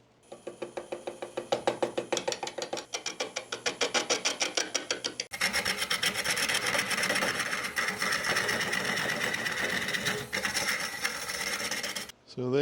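Woodturning lathe cutting a tenon on an applewood crotch blank: a rhythmic rasping, scraping cut with regular catches, then a steadier, denser roar of tool on spinning wood that stops abruptly near the end.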